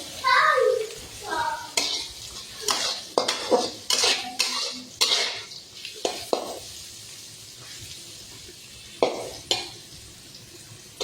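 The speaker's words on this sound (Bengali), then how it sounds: "এই কলা ভাজা হয়ে আসছে" Banana slices frying in a pan for a homemade fish curry, with a steady soft sizzle under repeated sharp clinks and scrapes of a spatula against the metal pan, close and fairly loud.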